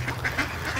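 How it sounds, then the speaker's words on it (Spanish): Ducks quack repeatedly on a pond at an animal refuge farm, a steady run of nasal calls at moderate distance with geese nearby and no talk. "Fue para separar un poco algunos patos de otros gansos que tenemos allá."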